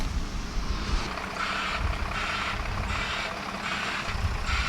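A dump truck backs up with its engine running steadily, and a reversing alarm beeps at a regular pace over the constant rumble, close and loud.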